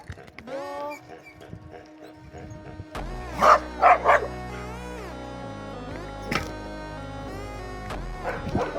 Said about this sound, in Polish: pies na mnie i na mojego kuzyna Flipa by się rzucił